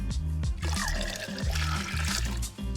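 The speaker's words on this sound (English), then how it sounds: "We're gonna fill it up with at least 4 quarts of water per pound of pasta." Water pouring into a big pot being filled for cooking pasta, a loud, close, continuous gushing and splashing with a brief dip near the end.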